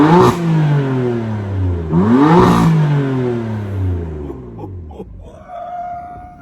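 BMW M4 with an aftermarket exhaust system, driven in Sport Plus mode, revving hard in repeated rising and falling sweeps, loud and close, then settling toward idle as the engine winds down.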